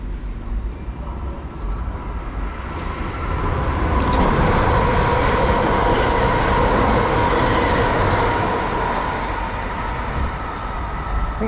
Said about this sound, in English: We do also have a passing train, which I believe is another 720